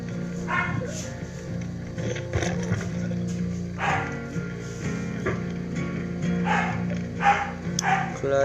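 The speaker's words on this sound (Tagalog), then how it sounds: "rinig ba yung aso, guys?" A dog barks in short, scattered bursts over a steady hum and background noise, a little distant, with a few yips in between.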